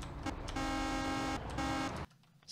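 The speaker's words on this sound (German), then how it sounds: "Ah, man kann hupen." A bus horn in the Bus Driver video game sounds in two steady, flat-toned honks, a longer blast then a shorter one, loud and close, over faint engine hum.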